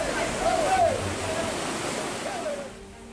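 A swift river current rushes over rocks at a river crossing in Kunyi village, Polewali, where a bridge has collapsed. It makes a steady, dense roar that stays loud before easing slightly near the end, with faint voices underneath.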